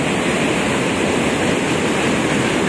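Aliwagwag Falls thunders with powerful rushing water, a loud, steady, unbroken roar of cascading flow heard up close with no voices.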